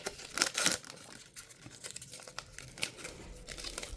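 A foil trading card pack from a 2024-25 Revolution mega box is torn open, a burst of loud crinkling and ripping at the start followed by softer intermittent crinkles close to the mic.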